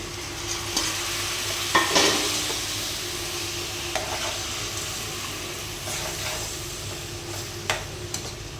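Tomatoes fry with drumsticks and spices in a mixed veg and non-veg curry, making a loud, continuous sizzle with repeated spoon scrapes and stirring knocks close up, and no voices.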